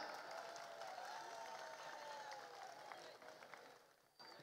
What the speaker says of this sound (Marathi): एकदा जोरदार टाळ्या होऊन जाऊन द्या